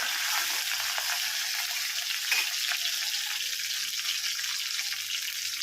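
Chopped green chili and coriander fry in a pan for kanda poha, a steady, close, hissing sizzle that stays even throughout, with no speech.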